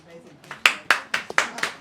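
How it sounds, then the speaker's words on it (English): Scattered hand claps from a small audience at a literary reading event, five or six sharp bursts in an uneven rhythm, close and fairly loud over faint room murmur. "Don't clap, I have to answer. Whoever's clapping can answer for me."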